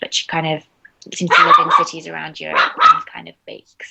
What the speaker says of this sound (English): Sorry, that's my dog That's barking.